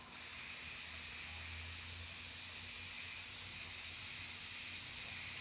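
Spray paint hissing from a can onto an artist's test piece, a steady close continuous hiss lasting several seconds with no talking.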